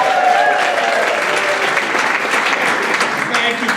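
Steady, loud applause from a live studio audience at a radio show recording, dense clapping sustained for several seconds with a faint voice underneath.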